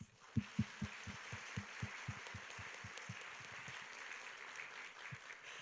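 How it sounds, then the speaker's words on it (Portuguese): Applause breaks out at an office management event in Brazil, led by distinct, rhythmic, close hand claps over a softer spread of clapping from the room, tapering slightly near the end. "uma salva de palmas para vocês"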